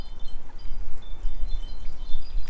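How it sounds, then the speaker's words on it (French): Wind blowing outdoors, buffeting the microphone in uneven low gusts that rise and fall continuously, with faint higher background tones and no talking. "Je suis dehors, il y a du vent"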